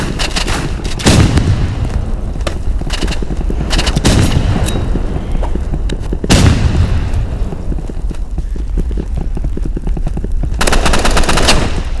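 Video game machine gun fire rattles in sustained rapid bursts, loud and near, punctuated by several heavy booming impacts, with no voices.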